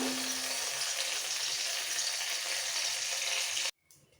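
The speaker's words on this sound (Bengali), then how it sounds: "এবার এই ভাজা কড়াইয়ের মধ্যে আর একটু তেল অ্যাড করবো" Oil is added to a hot frying pan, giving a steady, quiet sizzling hiss that holds for most of the time and then cuts off abruptly near the end.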